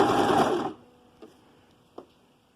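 A sewing machine running a zigzag stitch along the edge of soft fabric for a child's trouser cuff, a close, brisk mechanical whir that stops abruptly, followed by two faint clicks.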